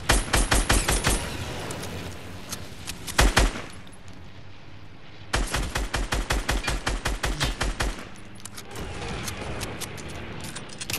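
Automatic gunfire in a video game, fired at the player: loud, evenly spaced rapid bursts in several runs with short pauses between them, close and dominant.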